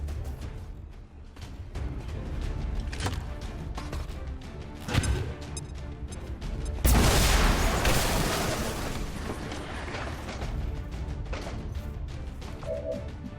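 A frag grenade blows apart a building roof in XCOM 2, a sharp boom and crash that breaks over continuous game music and ambience, followed by a long roaring rumble of collapsing debris.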